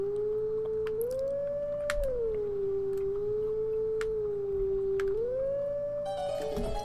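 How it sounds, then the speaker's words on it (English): A wolf howls in The Legend of Zelda: Twilight Princess, a long clear wavering tone that rises and falls in slow swells over several seconds, loud and alone over faint game ambience. "I'm so great at howling."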